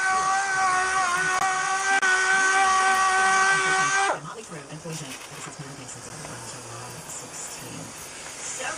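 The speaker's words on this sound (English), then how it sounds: "As you see, I started buffing" Polisher buffing rubbing compound into the paint of a 1999 Buick Regal LS after wet sanding, a steady high motor whine that cuts off abruptly partway, leaving quieter room noise and faint handling sounds.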